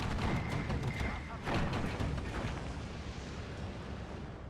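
Explosions and strafing gunfire as Ju-87 dive bombers attack a convoy in the Steel Division 2 war game, giving dense, continuous rumbling battle noise with a couple of louder bursts near the start.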